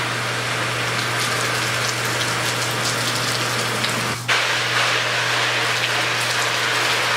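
Water pours continuously onto a The North Face Resolve 2 rain jacket, a steady loud rushing splatter like heavy rain with a brief dip midway, over a low constant hum.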